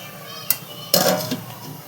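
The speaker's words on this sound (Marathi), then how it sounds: "गॅस बंद करून घेते मी इथे आणि झाकून ठेवून देते" Metal lid set onto a cooking pot of bhagar (barnyard millet) on a gas stove just switched off: a sharp click, then a louder ringing clatter about half a second later, close by.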